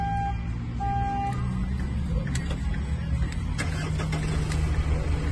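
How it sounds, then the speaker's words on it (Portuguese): A Mitsubishi pickup truck's engine runs with a steady, rumbling idle close by, a continuous low drone with faint rattles over it and no speech. "A caminhonete está funcionando."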